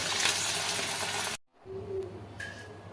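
Drumstick flower fritters sizzle in hot oil, a steady close crackling hiss that cuts off abruptly and then returns quieter as frying resumes.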